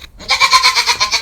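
Goats bleat repeatedly on a homestead during morning chores, a loud, wavering series of calls pulsing close by after a brief quiet start.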